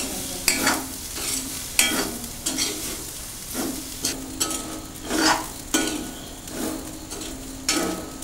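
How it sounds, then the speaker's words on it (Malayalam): Grated coconut for a prawn dry fry is stirred in a hot pan, a rhythmic scrape and swish of the spoon roughly every second over a constant sizzle, close and alone with no talking. "തേങ്ങ നന്നായി മൊരിയുന്നത് വരെ ഇളക്കി കൊടുക്കുക"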